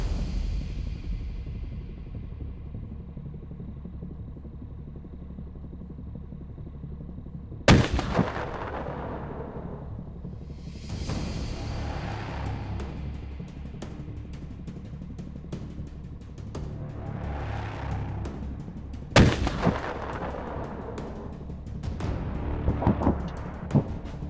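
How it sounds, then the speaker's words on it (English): Patria artillery firing rounds on different trajectories and charges in a multiple-round simultaneous-impact mission at an Arctic event: two sharp, heavy booms several seconds apart, each followed by a long rolling echo over steady outdoor rumble. "The rounds are fired using different trajectories and different charges, so that they will land at the target almost simultaneously."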